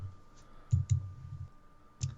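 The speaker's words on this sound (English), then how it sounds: "we all Google, we all typing away" Keyboard typing during a podcast, a few sharp clicks standing out over a low hum, with quiet irregular tapping in between.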